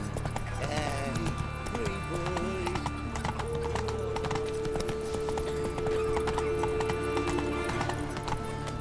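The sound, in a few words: horse Roach trotting, from the video game The Witcher 3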